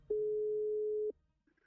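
A single steady telephone ringing tone sounds during a call to a mosque imam in Denmark, holding one clean, loud pitch for about a second before cutting off into near silence.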